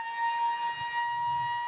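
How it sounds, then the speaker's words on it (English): Quarter-time siren at Fremantle Community Bank Oval during an Australian football match, a steady sustained electronic tone held throughout, moderately loud over faint crowd noise, no talk. "And that is the siren to indicate quarter time here at Fremantle Community Bank Oval."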